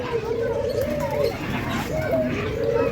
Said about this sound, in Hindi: ये कबूतर जैसी होती हैं कुगियाँ